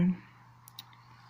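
Two quick mouse clicks on the level-up button while playing the video game Last Day on Earth, close and brief, following a short moment of talk.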